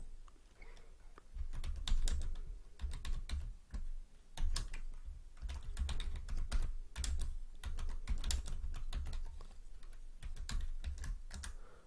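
Typing on a computer keyboard while coding in Python, rapid irregular clacking keystrokes in bursts with short pauses, close and clear, continuing steadily with no talking.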